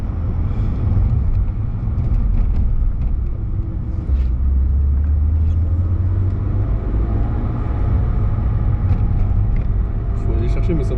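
Steady low rumble of a BMW M3 E36 cruising gently, heard from inside the car, with a deeper engine swell in the middle before settling back into a constant hum.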